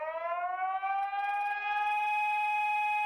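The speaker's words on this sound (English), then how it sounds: "someone just recorded an ambulance, slowed it down, reverb" Ambulance siren recording slowed down and drenched in reverb, one long, smooth, low wailing tone that rises slowly and holds, steady and fairly loud with a faint hum beneath and no talking.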